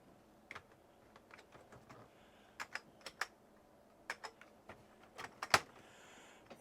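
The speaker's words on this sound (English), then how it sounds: "Let's check the keyboard." Scattered keystrokes on an Amiga A1200 computer keyboard, with sticking keys under a poorly fitted top cover, heard as sparse, uneven clicks close by over a quiet background.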